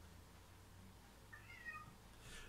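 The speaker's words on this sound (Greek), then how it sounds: "Έχω και το γάτο μου. Θέλει να μπει μέσα." A cat outside wanting to be let in gives a faint, drawn-out meow partway through, quiet against low background hiss with no speech.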